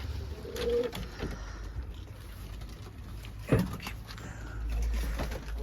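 A taklacı tumbler pigeon gives soft low coos and a brief fluttery call outdoors, faint and intermittent over a quiet ambient background, with no talk.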